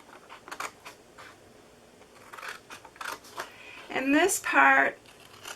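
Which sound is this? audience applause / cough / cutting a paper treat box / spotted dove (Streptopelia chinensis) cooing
cutting a paper treat box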